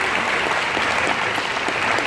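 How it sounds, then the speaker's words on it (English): An audience at a Six Flags Fiesta Texas presentation applauding, a steady, dense wash of clapping from many hands that continues throughout. "Big round of applause."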